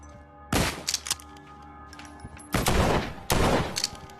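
Gunshots ring out in The Walking Dead video game, three loud, sharp blasts spaced apart with quieter thumps and ambience between them.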